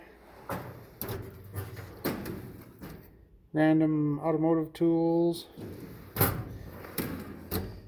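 A drill bit drawer in a workshop slides open and shut with a loud scraping rattle, followed by a thud, while someone talks before and after.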